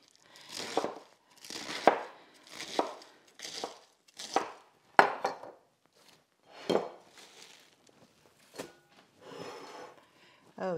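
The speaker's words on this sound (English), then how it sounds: "So we're just gonna chop as we go." Cabbage being chopped with a knife on a board to make sauerkraut, about a dozen crisp, slicing thunks in an uneven rhythm, close and fairly loud, with pauses between strokes.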